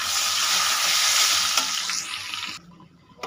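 Bay leaves and whole garam masala spices frying in melted butter for butter pulao, a loud close steady sizzle that cuts off abruptly near the end, leaving quiet.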